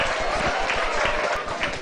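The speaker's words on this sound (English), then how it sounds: "Please give them a round of applause." An audience at a school class reunion anniversary gathering claps for the students, a brief, loud and dense round of applause lasting under two seconds.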